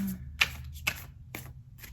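Tarot cards are shuffled by hand indoors, producing a few soft, crisp riffling bursts spaced irregularly over a couple of seconds, quiet and close with a faint hum underneath.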